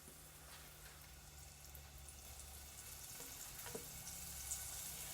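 Onion rings sizzle in hot oil in a home kitchen pan. The frying hiss holds steady and fairly loud throughout, with a few louder crackles and pops.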